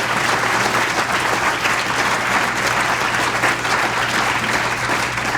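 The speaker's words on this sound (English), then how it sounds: "Give her a big round of applause" A crowd at a political event in Macomb claps steadily for Tammy Duckworth, a dense, even round of applause with no voices standing out.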